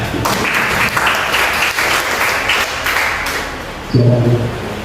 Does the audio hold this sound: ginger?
no